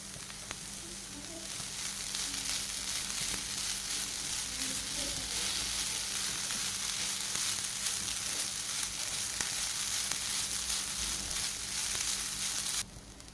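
Chicken gravy masala with grated coconut frying in a pan for a Mangalore-style curry, giving a steady, loud sizzle throughout with faint stirring sounds.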